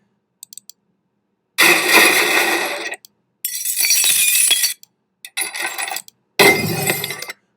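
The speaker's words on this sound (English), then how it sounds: "Put that crash metal and glass right there." Crashing metal and glass shattering effect added where an animated object hits a spaceship: four loud bursts of smashing, clattering debris with brief gaps, after a few faint clicks, no voices.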